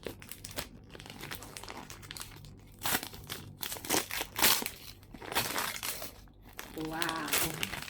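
Christmas gift being unwrapped: wrapping paper crinkling, crumpling and tearing in bursts up close, with a voice speaking over parts of it.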